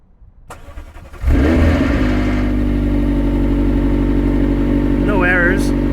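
A McLaren car fitted with a remote exhaust valve controller starts up: a click and faint noise, then the engine catches at about one second and settles into a loud, steady idle, with brief voices near the end.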